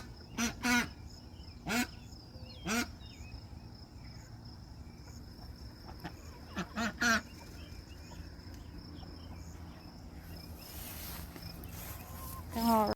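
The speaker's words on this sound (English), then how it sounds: "Little duckies." Ducks quack in a garden, several short nasal calls in loose bursts, fairly close against a faint outdoor background.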